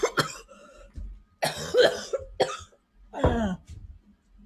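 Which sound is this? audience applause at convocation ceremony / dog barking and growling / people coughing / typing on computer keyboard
people coughing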